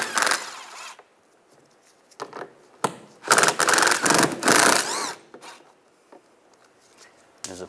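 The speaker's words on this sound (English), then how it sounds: "Take this panel down, use an 8mm socket, take these two bolts out." A socket wrench works on panel bolts of a 2004-2010 BMW X3 during a rear brake pad sensor replacement, with bursts of rapid ratcheting clicks separated by quiet pauses, close and fairly loud.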